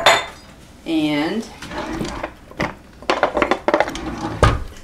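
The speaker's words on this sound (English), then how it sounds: "stir that all up real well" A spoon stirs two cups of sugar in a bowl for lemon ice cream, giving scraping, clinking strokes against the bowl in uneven bursts, close and fairly loud, with a brief voice at the start.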